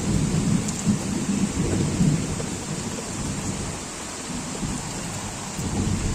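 Steady rain falls outdoors in a village during an afternoon storm, with low rumbling thunder rolling through the dense, continuous wash of rainfall.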